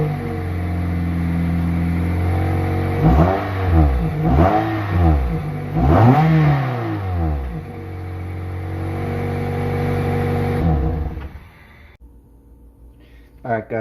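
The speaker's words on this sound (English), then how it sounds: "I'm just gonna go ahead and show you what my stock exhaust sounds like currently at the moment" A 2003 Toyota Matrix XR with its stock exhaust and an aftermarket intake idles in a garage and is revved about three times in quick succession, each rev rising and falling, before the engine shuts off and leaves near silence.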